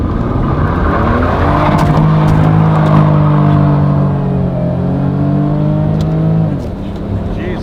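A JDM car's engine revs hard at high RPM, rising harmonics sweeping up and holding as it accelerates, then the pitch drops sharply as it lets off; loud and close with no talk over it.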